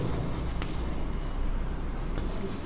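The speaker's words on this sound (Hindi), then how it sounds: "मैं लिखता हूँ" Marker or chalk strokes scratch across a board during a math lesson, a steady continuous writing sound over a low room hum.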